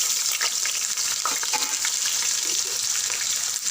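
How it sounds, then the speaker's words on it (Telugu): Spring onion leaves with cumin, the spring onion bulbs and a chopped large onion frying in hot oil in a pan, a steady dense sizzle close up with faint stirring, no talk. "కొంచెం ఎక్కువనే పడుతుంది ఉల్లాకు ఫ్రై అవ్వడానికి"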